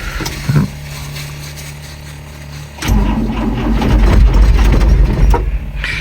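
A Ford Courier pickup that has sat for about a week in the cold has its engine cranked, with a short sputter before a louder, rougher engine rumble builds, close by.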